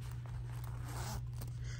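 Zipper on a handbag pocket drawn open in a few quick smooth pulls, close and quiet over a low steady hum, no talk.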